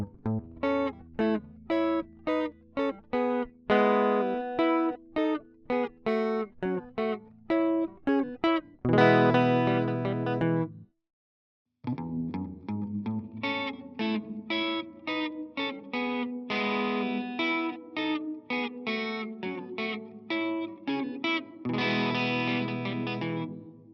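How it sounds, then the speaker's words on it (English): A guitar passage in an early-1960s style, played with heavy reverb and some distortion, plucked notes ringing out densely, a brief silent gap midway, then sustained strummed chords. "It gives it that kind of like, it gives it that reverby sound"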